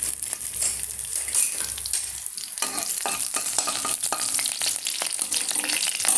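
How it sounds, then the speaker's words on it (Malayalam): Mustard seeds and cut green chilli sputter and sizzle in hot oil in a pan, a steady crackling fry with stirring scrapes, close and loud with no talking. "ഇത്തിരി കടുക് ഇട്ട് കൊടുക്കാം"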